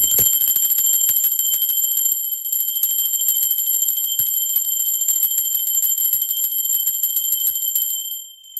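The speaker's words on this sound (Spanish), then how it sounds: "Ahora sí, va campana." A bright, high metallic ringing sustains throughout, shimmering steadily before fading at the very end, with faint soft knocks beneath.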